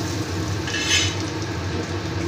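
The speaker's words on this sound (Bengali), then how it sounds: "এবার এই তেলের মধ্যে আমি দুটো শুকনো লঙ্কা, তেজপাতা আর জিরে ফোড়ন দিলাম" Dried red chillies, bay leaf and cumin seeds tempering in hot oil after fish and potatoes were fried, a steady close sizzle with a brief brighter surge near the middle, no talking.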